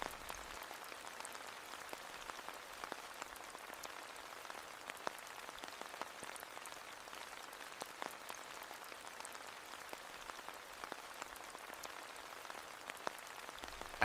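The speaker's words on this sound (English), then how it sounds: "The air is filled with the subtle drumbeats of raindrops, cascading across the leaves of different sizes." Raindrops fall on leaves of different sizes in a meadow, a soft, steady patter of countless tiny taps, faint and close, continuing evenly with no voices.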